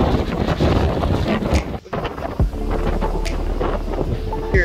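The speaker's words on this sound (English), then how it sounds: "It's windy." Wind gusts buffet the microphone beside the Indian River near Cape Canaveral, a loud steady rumble with brief drops and rushes and a faint voice or two underneath.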